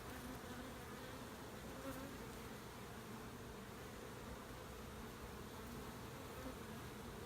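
A dense, steady buzz of many honeybees on hive frames humming continuously at close range during a hive inspection, with no voices, filling the whole stretch evenly.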